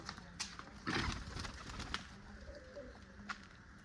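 Pigeons cooing softly in a home loft where a pair with red markings is nesting over eggs, with low murmuring coos, a brief flutter and faint background rustles.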